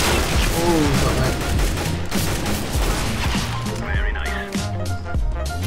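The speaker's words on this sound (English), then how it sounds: "I'm sick of the shotguns" Shotgun blasts in the CS:GO video game crack out in a rapid, loud barrage of overlapping gunfire, filling the whole stretch with dense, sharp reports and game noise.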